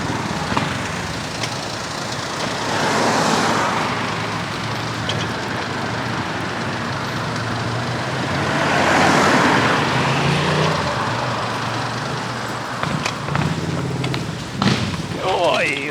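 Steady road traffic passes beside a narrow pavement, a broad continuous roar with vehicles swelling past nearby, heard from a bicycle ride with someone speaking over it.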